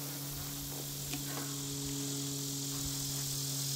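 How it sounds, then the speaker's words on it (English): Honeybees buzzing at an opened hive during a honey harvest as the inner cover comes off, a continuous close hum with a steady drone underneath. "Lots of bees."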